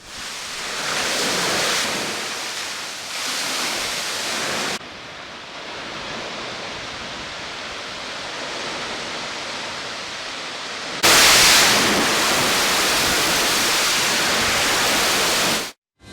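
Torrent of water gushing from a dam with 4,655 cusecs released, a loud continuous broadband roar that steps down in intensity midway and then surges back louder near the end, with no voices.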